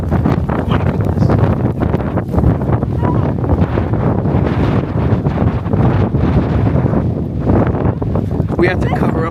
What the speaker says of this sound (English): A wind gust just blew sand, and there's not even sand, it's like heavy pebbles.